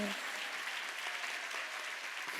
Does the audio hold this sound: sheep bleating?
no